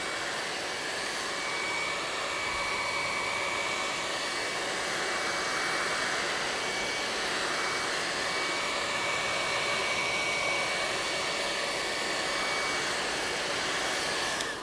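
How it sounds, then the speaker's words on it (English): A hair dryer blows continuously at close range, heating candle-making material, a steady airy roar with a high motor whine that holds unchanged throughout. "Awful nice of Tammy to let us borrow her hair dryer"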